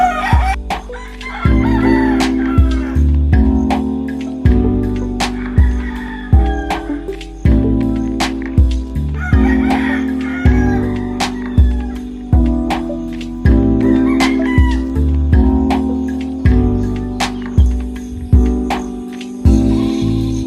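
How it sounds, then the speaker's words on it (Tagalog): Roosters crow and hens cluck loudly and repeatedly on a farm, overlapping one another in a busy, continuous flock chorus. "ipapakita ko na sa inyo ang iba't ibang uri ng manok na mayroon dito sa aming farm"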